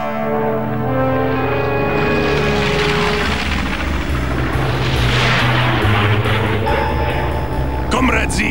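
Bessie, an old cartoon two-wheel Pinkett QRS car, lets out a loud, steady, rough engine rumble that sounds like a worn muffler and fills the whole stretch.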